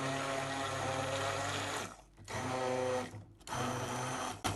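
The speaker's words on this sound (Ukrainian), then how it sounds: "Для цього нам потрібно порізати банан і збити блендером." A blender purees chopped banana with a loud, high motor whine that runs in bursts, stopping briefly twice before starting up again.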